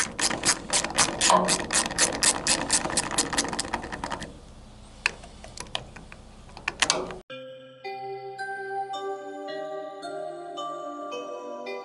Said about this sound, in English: we're gonna need a 7mm socket to loosen the neck of the gas tank